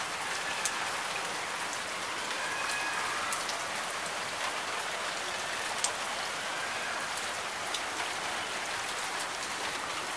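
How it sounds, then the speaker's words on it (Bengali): Rain pours onto a rooftop in a dense, even hiss of countless drops, steady and continuous with a few sharper patters standing out. "এই যে আমার ছাদের উপরে বৃষ্টি,"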